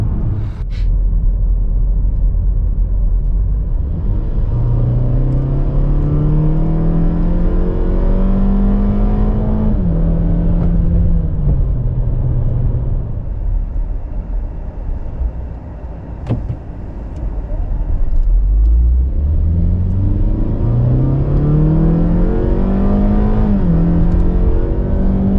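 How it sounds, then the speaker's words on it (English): A Nissan Bluebird accelerating hard, its engine note climbing steadily through the gears in long rising sweeps, loud and close, with a brief drop in revs between pulls and no talking. "Considering how hard this car accelerates, all of a sudden stops being fun when you've got to go around a corner."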